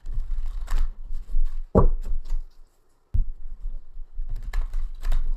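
Tarot cards are shuffled in quick riffling bursts with soft slaps and clicks, close by, pausing briefly before resuming.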